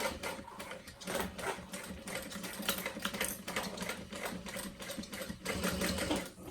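A sewing machine stitches a zipper onto a bowler bag, a fast continuous rattling hum of needle strokes with brief pauses, close and steady throughout.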